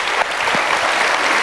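A crowd applauds with a dense, steady patter of clapping that carries through the whole moment.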